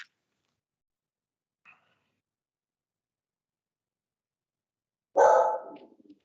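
A dog lets out one short, loud bark close to the microphone after a faint yip, during an online budget committee meeting that is otherwise silent.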